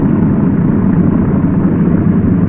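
A Douglas DC-3 aircraft engine runs steadily as it settles into smooth operation, a loud, continuous low drone with no break and no voices.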